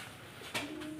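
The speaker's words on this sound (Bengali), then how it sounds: "কবুতরকে খাবার দিচ্ছি।" Pigeons being fed at home, a single soft coo rising briefly near the end against a quiet background.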